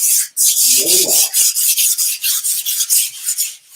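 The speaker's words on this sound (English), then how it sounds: "I definitely don't want any kind of bulging anywhere, so I'm definitely going to sand" Sandpaper rubs rhythmically across a wood panel covered with watercolor paper, close and loud, in quick back-and-forth strokes with brief pauses.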